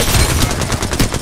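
Automatic gunfire rattles in the video game Apex Legends: a loud, close, rapid burst of repeated shots with no break, with no voices over it.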